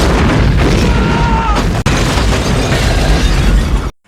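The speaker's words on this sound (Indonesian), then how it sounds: "tapi terjadi lagi ledakan" A tunnel explosion rumbles loud and close with deep booming energy for nearly four seconds. A sharp crack lands midway, then the sound cuts off abruptly.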